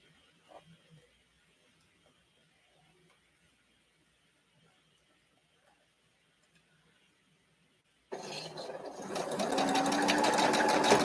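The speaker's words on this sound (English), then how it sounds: "As long as the sewing machine doesn't wake her up." A home sewing machine starts up after about eight seconds of near silence and runs steadily and loudly to the end, its fast stitching rhythm holding a continuous whir, with only faint sounds and no talk before it starts.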